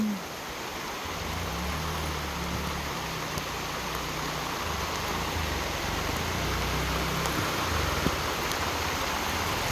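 Steady rain pours down over a garden orchard, a continuous dense hiss of drops that stays even and unbroken throughout, with no voices.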